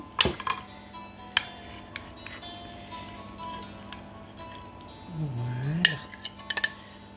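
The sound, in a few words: serving cauliflower gratin onto a plate, dishes and cutlery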